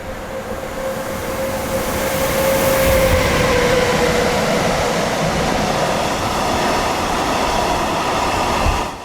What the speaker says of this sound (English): Alpha Trains Vectron number 193412 heads westbound with a waste train from Malmö in Sweden